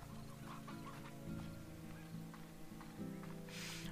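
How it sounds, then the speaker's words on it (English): A rooster in the video game Slime Rancher clucks in short repeated calls over a low, steady game background. "We got a rooster."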